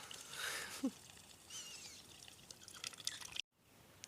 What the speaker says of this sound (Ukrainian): Катечка зійшла з яєчок і ось ляпається. Розльопали воду